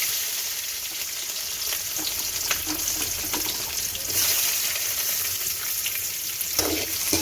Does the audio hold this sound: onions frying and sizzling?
yes